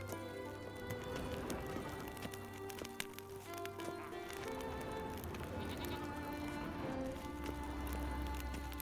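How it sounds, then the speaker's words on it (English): Sheep bleats sound now and then over a busy, steady soundtrack in The Witcher 3: Wild Hunt with a low droning bass, the calls fairly faint and partly buried. "Another side spot with nothing, and I hear a sheep."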